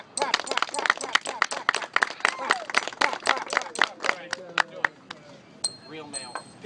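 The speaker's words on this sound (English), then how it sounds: "Every time the hammer hits the nail, one big hand clap out of everyone." An outdoor street-show crowd at Huntington Beach claps together in sharp, rhythmic unison, many quick claps in a row that thin out toward the end, with a few bright metallic pings and some talk.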